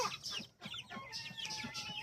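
Backyard chickens and roosters cluck softly and continuously at close range, with overlapping chatter and occasional higher calls forming a busy, fairly quiet flock murmur.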